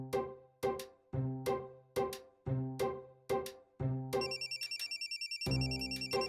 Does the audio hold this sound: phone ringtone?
yes